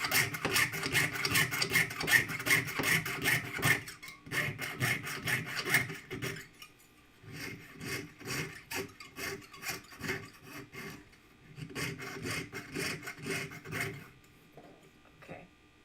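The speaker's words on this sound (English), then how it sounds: "So I'm sawing 2 pieces of 18 gauge at the same time, so it's really heavy." Two stacked sheets of 18 gauge metal are hand sawn together, with quick rhythmic rasping strokes in several bursts separated by brief pauses, close and fairly quiet.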